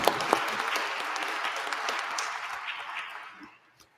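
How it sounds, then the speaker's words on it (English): An audience at a live-streamed panel event applauds, a dense sustained clapping wash that holds steady for about three seconds before tapering off to near silence. "Let's give everybody a round of applause."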